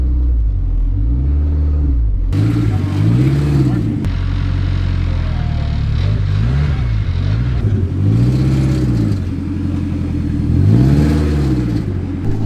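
An all-wheel-drive Jeep Cherokee swapped with an SRT4 engine accelerates hard from inside the cabin, its mid-pitched engine note climbing and dropping through repeated gear pulls, loud and continuous.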